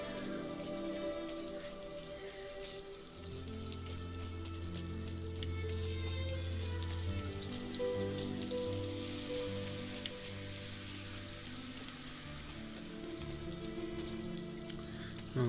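Rain falls steadily in the video game RiME, a continuous patter of drops on surfaces blended with soft game music tones, without talk.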